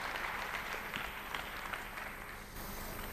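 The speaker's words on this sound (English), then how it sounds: "Please give a warm round of applause for Mr." Audience applause at an Indian panel and talk show in Mangalore, a dense steady wash of many hands clapping that carries evenly throughout, with no voices over it.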